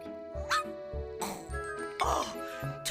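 A dog barks several times in quick succession, close and loud, with yips between the barks.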